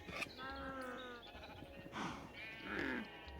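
Sheep in Minecraft bleat several times, a wavering drawn-out bleat followed by shorter cries, fairly close with a soft background of game noise.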